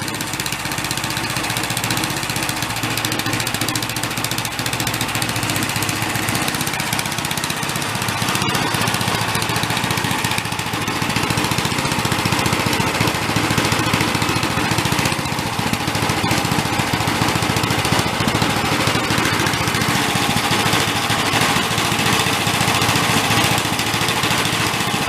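Engine running continuously on a test bench with a steady, loud mechanical drone and a slight rattle from the bench, no speech.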